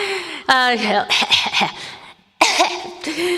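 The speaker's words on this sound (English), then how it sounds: "So an example of this is a cough." A single sharp cough bursts out near the start, framed by a person talking calmly before and after it.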